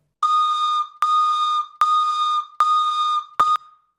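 Four steady held tones of a recorded wooden whistle pitched to imitate a Class 484 train horn, each about half a second long and evenly spaced, followed by a short fifth blast that cuts off abruptly.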